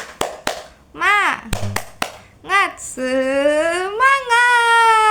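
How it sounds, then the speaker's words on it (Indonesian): Children in a classroom perform a rhythmic spirit clap chant: sharp rhythmic claps interleaved with short sung calls, ending in a long, loud, sustained group shout of children's voices. "Kita tepuk-tepuk semangat dulu yuk sebelum pulang"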